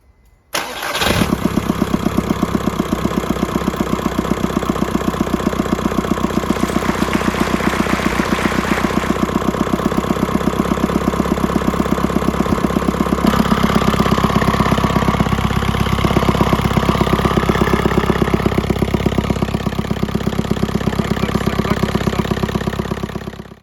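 A Seat 300 car engine cranks and catches, then settles into a steady, loud idle that runs on evenly to the end before cutting off.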